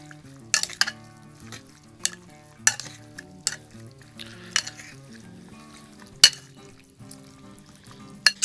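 Buffalo sauce and ranch dressing being stirred together, with a spoon giving irregular scraping clicks and sharp clinks over steady background music.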